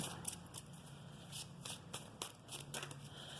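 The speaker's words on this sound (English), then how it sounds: "I feel like I'm going to give it one more good shuffle here." Soft, quick riffling of tarot cards being shuffled in a few short bursts over a low background hum, with no voices.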